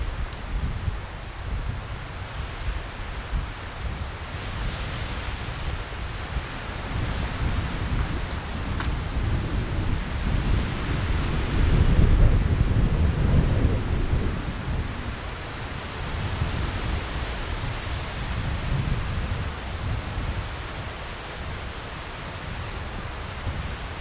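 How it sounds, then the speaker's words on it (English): Strong wind ahead of a storm roaring steadily over the microphone with rustling, swelling into a louder gust midway before easing back to a constant blustery rush. "It is so windy, folks."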